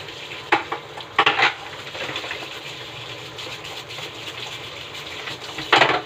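Macaroni and chicken with cooking cream stirred in a pan, giving a soft steady sizzle broken by a few sharp scraping strokes of the spoon, close and alone.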